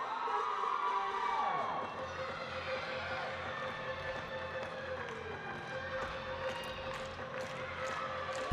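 Crowd at a Nebraska women's gymnastics floor routine claps rhythmically and cheers over music throughout an arena, with a steady busy wash of voices, hands and an occasional shout.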